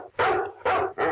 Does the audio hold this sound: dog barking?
yes